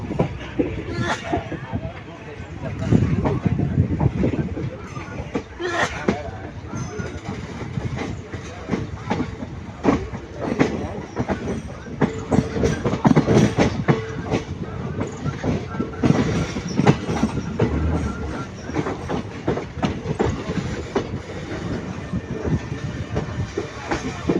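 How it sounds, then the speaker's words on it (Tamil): An Erode to Shoranur passenger train runs on the rails, a steady rumble with rhythmic clickety-clack of wheels over joints, heard from inside a carriage, with people talking under it throughout. "கரெக்டாக எட்டு மணிக்கு வந்துருச்சுங்க வண்டி ஈரோடு ஜங்ஷன்"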